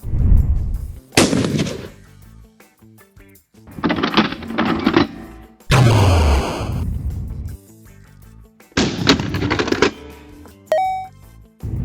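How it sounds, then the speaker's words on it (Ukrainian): Three loud pump shotgun blasts, each followed by the quick clack of the slide racking, then a short metallic click near the end. "Перезаряджаємо одразу після пострілу, використовуючи віддачу для цього."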